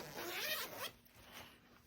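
Zipper on a MacBook case pulled shut in one quick, close stroke, followed by quieter handling of the fabric.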